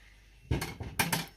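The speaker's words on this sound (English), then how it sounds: "scrape everything from the edges and up from the bottom." A utensil scrapes and knocks against a mixing bowl while cake batter is worked from the sides and bottom, making a few brief clattering strokes, quiet and close.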